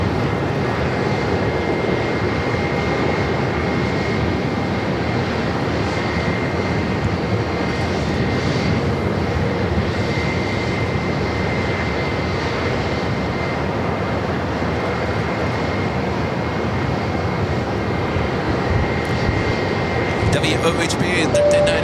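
An American Airlines Airbus A321, about ten years old, pushes back at Phoenix airport, giving a loud steady roar of jet engines that holds at a constant level throughout with no breaks.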